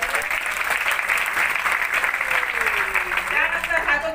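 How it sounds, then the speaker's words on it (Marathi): An audience at a public talk breaks into sustained, dense applause, a steady wash of clapping from many people filling the room, with voices faintly mixed in. "त्यांच्यासाठी एकदा जोरदार टाळ्या."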